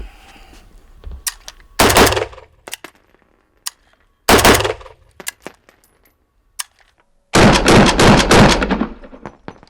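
Kalashnikov rifle firing 7.62x39 rounds in three loud separate bursts, two short blasts followed by a longer rapid string near the end, with sharp clicks and brief quiet gaps in between.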